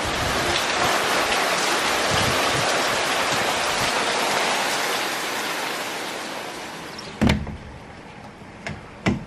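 Steady broadband hiss of a short rain shower in Mexico dominates for several seconds, then fades, leaving a few sharp knocks or thuds in the quieter stretch.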